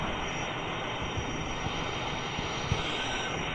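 A train rolls along in a Roblox Indian railway game, a steady droning rumble with a faint high whine running throughout, no talk over it.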